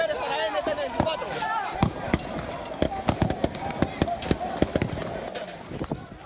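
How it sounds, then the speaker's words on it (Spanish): Gunfire at the Francisco de Paula Santander border bridge in Colombia: many sharp shots crack out in rapid, irregular bursts throughout, close and loud, over a background of crowd noise and shouting voices. "Hay disparos, hay detonaciones de armas de fuego en el Francisco de Paula de Santander, en Colombia"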